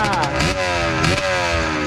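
A small dirt motorcycle revs on a trail ride, engine buzzing loud and close with rising and falling throttle bursts, and voices heard briefly under the engine.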